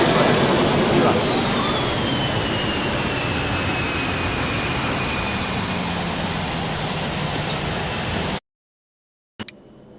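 An American Airlines Boeing 737-800 in a flight simulator game roars steadily at takeoff power with a rising whine, then cuts out abruptly near the end.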